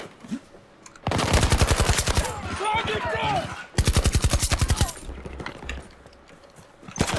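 Gunfire in a shooter video game comes as two long, loud bursts of rapid automatic shots separated by brief pauses, with quieter battle noise and faint voices between them.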